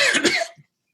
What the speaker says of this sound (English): wow, I'm going to cough again.